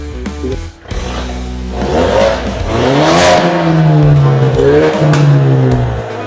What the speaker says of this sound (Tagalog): Buong buo yung tunog niya kasi naka Borla exhaust to